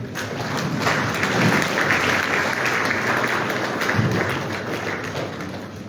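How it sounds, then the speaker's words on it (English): A large audience at a West African central bank governors' meeting in Liberia applauds steadily, dense sustained clapping that fills the hall evenly for several seconds without pause. "please let's put our hands together, give them a round of applause"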